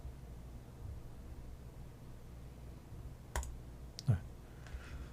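A computer mouse double-clicks in video editing software, two sharp faint clicks close together over steady low room hum.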